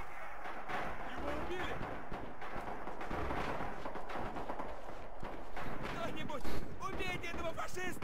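Rapid MP40 submachine gun bursts in the World War II shooter Red Orchestra 2, crackling amid dense battlefield gunfire and artillery, with voices talking over the din throughout.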